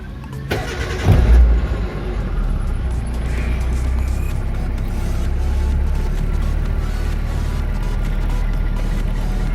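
Kia Visto car engine cranks with a loud starter thump, then catches and settles into a steady close-up idle rumble that continues to the end.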